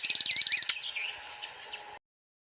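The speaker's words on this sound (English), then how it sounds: "N is for nightingale." A nightingale sings a rapid run of about a dozen sharp repeated notes, then softer warbling phrases and twitters, close and clear before cutting off to silence.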